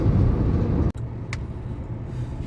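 Kia Carens car driving on a road in Tamil Nadu, a loud steady rumble of engine and tyre noise from inside the cabin, with a brief dropout and a faint click partway through.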